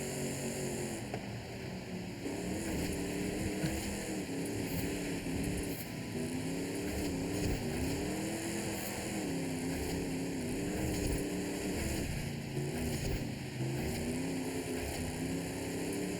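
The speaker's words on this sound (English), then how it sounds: "I'm in a drift truck with a diesel engine that only goes probably about 120." A diesel-engined drift truck in the racing game Forza Horizon 5 drones steadily throughout, its engine pitch rising and falling with throttle, a continuous sound with no talking.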